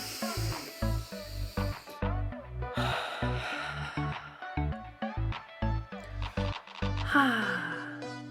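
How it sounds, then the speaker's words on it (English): Deep breaths drawn in and slowly let out, each a soft breathy rush repeating in a steady rhythm over a pulsing background. "I am going to take a couple deep breaths"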